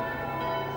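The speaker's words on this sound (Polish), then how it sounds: "Rozkołatane, żałobne dźwięki żoliborskich dzwonów rozpoczynają ceremonię." Mournful church bells of Żoliborz, tolled to open a funeral Mass, ring out as a short, sustained metallic tone with rich overtones, fairly faint and alone.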